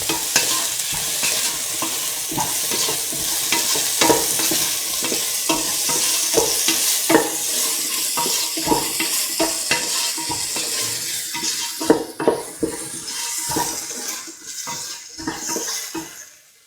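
Salt paste being stirred into carrot, tomato and coconut milk rice in a pan, with repeated scraping spoon strokes against the pan over a light sizzle, close up and without voices.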